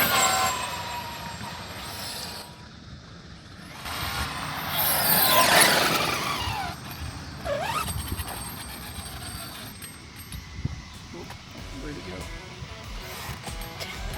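A car accelerates hard at full throttle during a test pull on a road, its engine drone swelling and rising in pitch under a voice.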